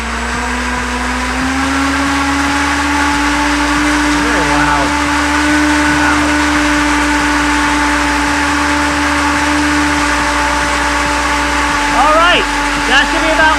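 Electric motor under a load test, drawing 32.5 amps from a Turnigy LiPo battery pack, gives a loud, steady high-pitched whine that holds close and constant throughout, with faint chirps near the end.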